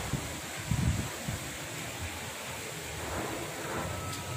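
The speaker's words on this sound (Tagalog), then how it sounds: "Nakakatakot naman ang hangin kung naririnig nyo." Strong typhoon wind roaring and gusting outdoors in Montalban, Philippines, a broad rushing noise with brief louder buffets near the start.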